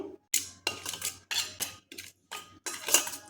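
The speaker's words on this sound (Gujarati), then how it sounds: "આ બધા જ મસાલાને આપણે હવે મિક્સ કરી લઈશું" A spoon mixes spice powders together, salt, pepper powder and garam masala, in a bowl, giving six short scraping, clinking strokes in a steady rhythm, close and clear with brief pauses between them.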